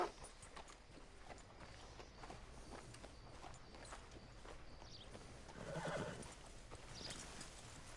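A horse in the video game Red Dead Redemption 2 neighs and whinnies while its hooves clip-clop at a walking pace, fairly faint and steady, with no talk over it.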